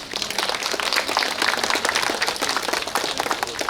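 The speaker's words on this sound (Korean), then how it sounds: "박수 소리가 뜨뜻미지." Audience applause at a humanities concert featuring pansori, a dense, lively burst of many people clapping close and loud, sustained evenly for the whole stretch with no speech.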